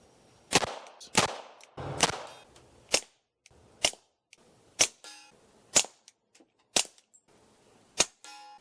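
A string of sharp, suppressed .22 LR rifle shots, compared unsuppressed, with a Banish 22 and a Banish 223 suppressor, about a dozen spaced roughly half a second to a second apart, crisp and close with short decays.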